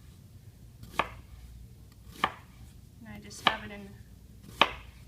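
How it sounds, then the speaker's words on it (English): A knife dicing an onion on a cutting board, with four evenly spaced, crisp chops heard up close and little else around them. "What we can do is we're just going to dice this"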